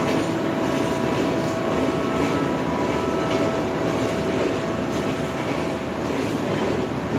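A train passes with a continuous loud rumble and rushing roar that stays steady and close for the whole stretch, heard from an indoor lecture setting with no talk over it.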